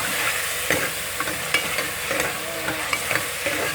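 Onion-tomato masala paste for an aloo matar gajar mixed-vegetable dish fries in a pan, a continuous close sizzle broken by regular scraping thumps of a spoon stirring every half second or so.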